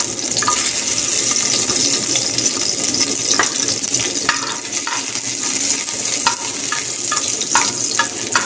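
Garlic frying in hot oil in a pan, a loud continuous sizzle with scattered crackles and stirring clatter, no talk.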